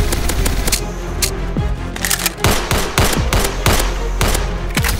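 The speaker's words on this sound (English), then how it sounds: "Switching to your sidearm is faster than reloading." Rapid gunfire from a video game boss fight, a dense series of sharp loud shots in irregular bursts over a steady low game soundtrack, with no talking.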